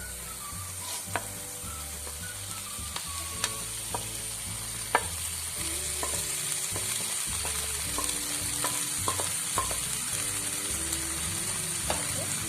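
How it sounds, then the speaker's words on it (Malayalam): Boiled pasta being mixed into sizzling masala in a pan, with a continuous frying hiss, a low hum underneath and occasional sharp clinks of a spatula against the pan, close and steady. "ഇനി ഇതിനകത്തേക്ക് വേവിച്ച് വെച്ചേക്കുന്ന പാസ്ത ഇട്ടുകൊടുക്കാം"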